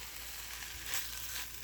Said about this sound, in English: So next, I am heating up some of the turkey.